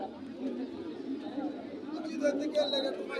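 Pigeons coo and flutter amid a busy pigeon market crowd in Narsingdi, Bangladesh, with steady chatter all around and a few bird calls standing out near the end.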